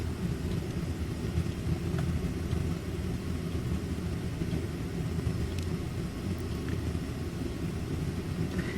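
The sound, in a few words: gas hot water heater burning gas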